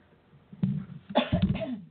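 A person coughs during a spoken interview, a short sharp cough followed by a louder burst of coughing, close and clear in a quiet room.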